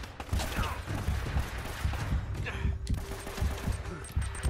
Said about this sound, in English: Now who's shooting at me?